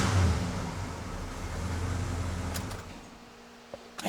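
A 1968 Ford LTD Hardtop, a revived abandoned car, drives along with a steady low engine rumble and road noise, easing off slightly near the end, with a couple of faint clicks.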